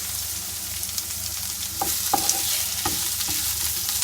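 Ham, ginger and melon are stir-fried in a pan, giving a continuous hiss of sizzling with several distinct scraping knocks of a utensil being pushed through the food, close and clear, without talk.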